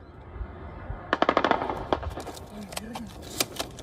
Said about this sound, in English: as gunfire rages outside